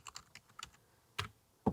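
Quick bursts of keyboard typing, several light key clicks in a short run followed by two sharper, louder keystrokes.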